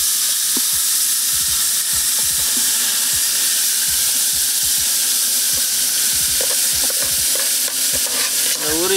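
Mutton sizzles and fries in a pot for Jaffna-style goat biryani, with steady close frying hiss and frequent scraping stirs of a spoon against the pan throughout.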